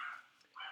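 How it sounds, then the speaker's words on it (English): Dogs barking in the background indoors, two faint brief yaps separated by a short pause, distant and quiet. "I'm curious if you hear my dogs barking in the background."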